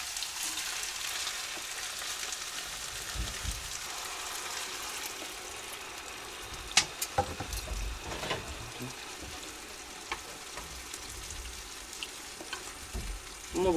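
Meat and vegetables fry in a pan for pilaf in a Siberian forest log cabin, as rice is added. A dense, continuous close sizzle is punctuated by a few clinks and stirring clatters.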